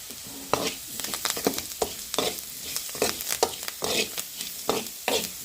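Beetroot fry is stirred in a hot pan, with repeated scraping strokes of a spoon over a constant crackling sizzle. The strokes come in an uneven rhythm, loud and close.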